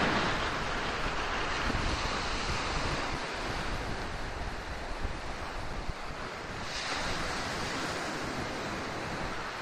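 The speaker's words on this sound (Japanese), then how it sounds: "もうすぐ今日は風が強いですけど、これが白浜の海ですね。" Strong wind and breaking sea waves at Shirahama beach, a steady loud roar of surf with gusting wind buffeting the microphone throughout, no voices.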